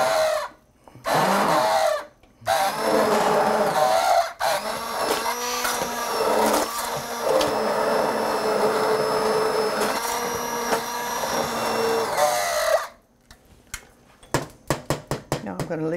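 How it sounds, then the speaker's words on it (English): An immersion blender whirs loudly through chunky cauliflower soup in a kitchen, a sustained motor drone with brief pauses before and after, ending in a few sharp clicks and taps. "I find I use the immersion blender quite a bit."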